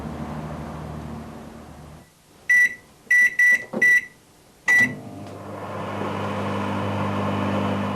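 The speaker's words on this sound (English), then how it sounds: "We all know what this is. A microwave oven." A microwave hums steadily, falls quiet, and four short beeps sound before the humming starts up again.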